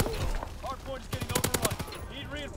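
A DLC weapon fires in the Call of Duty WW2 video game, a rapid close burst of automatic gunfire mid-clip, with a voice talking before and after.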